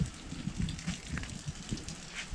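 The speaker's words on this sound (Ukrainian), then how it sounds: "У мене тут поки дощ." Rain patters steadily outdoors on a cold November day, a faint, continuous rustle of drops with no talk.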